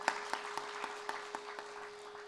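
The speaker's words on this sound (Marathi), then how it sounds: "एकदा त्यांच्याकरता आता जोरात टाळ्या वाजवू" An audience at a Shri Ram Janmotsav kirtan gathering claps in unison in a steady, fairly quick rhythm, moderately loud, over a faint sustained drone.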